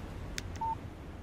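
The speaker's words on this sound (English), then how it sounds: "Text message from Barry." A phone text-message alert in the video game Alan Wake, a short, clean electronic beep tone preceded by a faint click, heard alone over low background noise.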